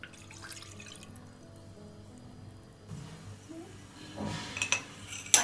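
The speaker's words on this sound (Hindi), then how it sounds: "सबसे पहले पैन में 1 ग्लास पानी बॉईल करने रख देंगे" Water from a glass poured into a cooking pan to boil in a home kitchen, a quiet stretch of faint clinks and drips followed by a louder splash and metallic rattle near the end.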